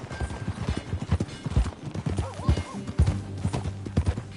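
A horse's hooves clip-clop in a quick, steady rhythm while riding in Red Dead Redemption 2, close and clear, with low tonal game ambience underneath.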